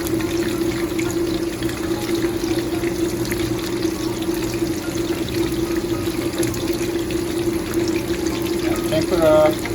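Steady crackling sizzle of tempura frying in hot oil, with dense small bubbling throughout and a brief louder burst near the end.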